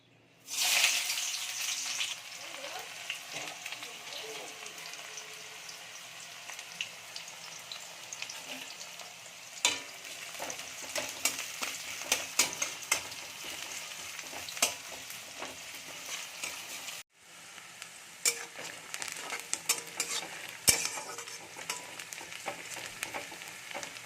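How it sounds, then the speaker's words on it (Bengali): Chopped onions sizzle in hot mustard oil in a kadai, a dense, even crackling hiss that starts abruptly and holds steady at close range, with a short drop about two-thirds through before the frying resumes. "সর্ষের তেল দিয়েছি কড়াইতে তেলটা গরম হয়ে গেছে এবার কুচিয়ে রাখা পেঁয়াজগুলো দিয়ে দেবো"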